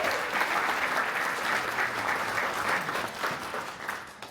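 Audience applause at a CHOC Walk charity honoree event, a steady dense wash of many hands clapping that holds for the whole stretch and eases slightly near the end.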